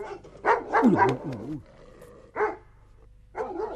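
Dog barking in a comedy sketch, a few sharp barks in quick succession followed by two more separated barks, close and clear, with a voice mixed in.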